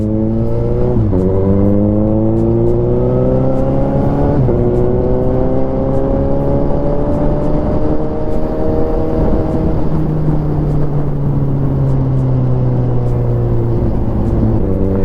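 A Suzuki GSX750 motorcycle engine runs loud and close, rising in pitch through several revs, dropping back between them, then climbing and holding high before easing off.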